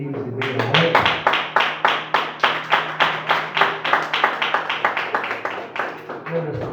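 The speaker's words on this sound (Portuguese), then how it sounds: "aplaudir o Senhor com a tua alma" A church congregation claps together in a steady, rhythmic beat during an evening worship service, loud and close, with sustained sung or spoken voices running underneath the even strokes throughout.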